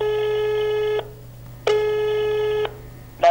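A phone call rings out unanswered over the line: two long, steady electronic ringing tones about a second each, separated by a short pause, with a third just starting at the end. The sound is clear and close, with no one answering.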